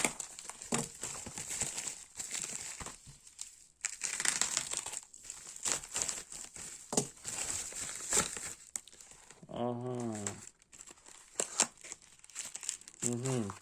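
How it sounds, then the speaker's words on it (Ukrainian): An AliExpress parcel is cut open and unpacked, with crinkling plastic packaging and rustling, tearing bursts throughout, close and fairly loud, and a voice speaking briefly in between. "Розпаковую."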